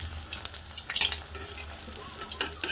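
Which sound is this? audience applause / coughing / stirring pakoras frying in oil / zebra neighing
stirring pakoras frying in oil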